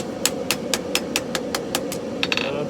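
A hammer strikes a Scottish dirk, forged from an old file, on an anvil: roughly a dozen evenly spaced ringing blows, close and clear over a steady low roar from the forge.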